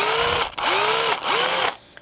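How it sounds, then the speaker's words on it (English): A power drill bores into a balsa wood crankbait lure body, three loud whining bursts that rise in pitch as the motor spins up, separated by brief pauses, close and without talk. "And I'm just drilling right to the bottom of my slot."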